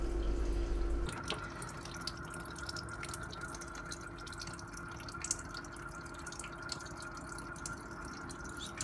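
Steady trickling and dripping water running out of a Worcester RSF CDI boiler's diverter valve, a continuous wet splash that stays even and fairly close throughout.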